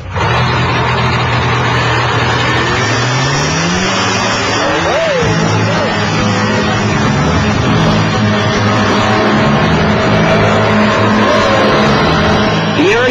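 An Aerochute powered parachute's engine and propeller start up and run at a loud, steady drone that rises in pitch as it revs, with voices talking over it.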